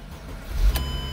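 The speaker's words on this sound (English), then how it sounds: "Car start." A Mercedes-Benz engine cranks and catches in a brief start, rising to a short surge of engine noise and then settling into a steady idle, heard close and loud.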